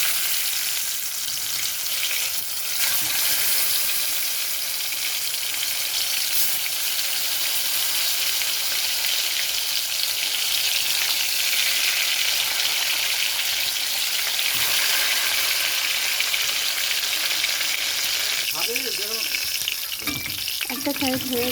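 Loitta (Bombay duck) fish parcels wrapped in sweet pumpkin leaves fry in white oil in a frying pan, giving a loud, dense, continuous crackling sizzle throughout, with a few clanks and scrapes near the end.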